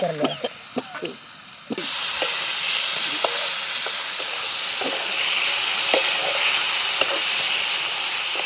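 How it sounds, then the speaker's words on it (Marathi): Potatoes frying in a pan with chili, garlic and salt for a potato and fenugreek dish: a steady, loud sizzle and hiss begins after a few stirring clacks, with scattered spatula scrapes and taps continuing throughout. "मिरची लसूण मीठ चांगलं तळून घेतला आणि बटाटा त्यात टाकून घेते"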